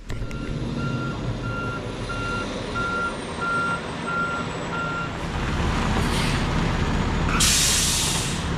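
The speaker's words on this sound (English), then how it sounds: "I can also hear our second load of gravel is being delivered right now" A gravel delivery truck backs up at a homestead, its reversing alarm beeping steadily at a regular pace over the engine rumble, followed by a sharp hiss of air brakes near the end.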